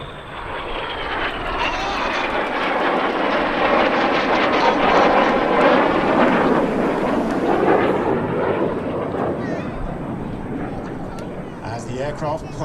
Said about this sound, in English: The aircraft pull out behind us, the smoke goes off.